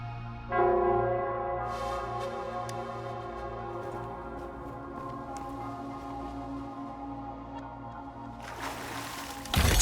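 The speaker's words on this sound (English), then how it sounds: "It's the bell." Deep, resonant bell tolls in a fantasy game world, a long sustained ringing with layered hum, a few brighter strikes over it, and a fresh loud burst at the very end.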